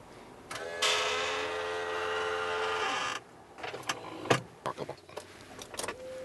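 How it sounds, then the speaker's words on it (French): An electrically powered driver's seat in a car adapted for a disabled driver pivots, slides forward and back and adjusts in height. A steady motor whir runs for about two and a half seconds, followed by scattered clicks and knocks. "Il se transfère sur son siège conducteur qui pivote, avance-recule et est réglable en hauteur électriquement."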